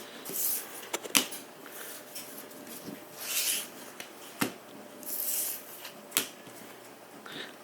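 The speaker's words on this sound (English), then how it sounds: "we're going to shuffle them all up really well" A deck of playing cards is shuffled repeatedly for a draft order selection, giving bursts of riffling and rubbing with sharp snaps between them, close and fairly quiet.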